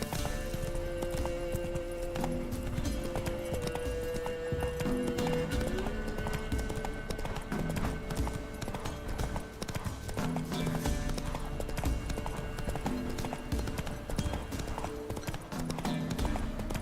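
Horse galloping in The Witcher 3 video game, a fast steady clip-clop of hooves running continuously under game ambience, with a brief voice.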